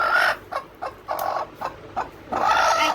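A hen brooding on quail eggs clucks in a series of short, soft calls with a longer murmuring cluck at the start and end, close and fairly quiet.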